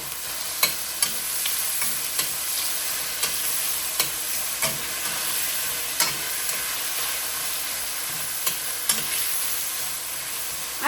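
Garlic sizzles steadily in a hot pan while a utensil stirs it, sharp scraping clicks recurring every second or so over the continuous fry hiss, close and fairly loud with no talking.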